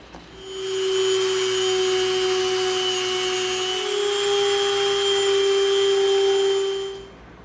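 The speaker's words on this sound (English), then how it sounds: "draw a center line down the middle and Dremel out a trench" A Dremel rotary tool carves a trench in EVA foam, giving a high, steady whine that ramps up, holds close and loud for about six seconds, then winds down.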